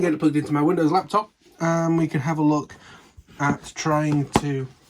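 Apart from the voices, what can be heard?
No distinct noise like a dog, phone or traffic.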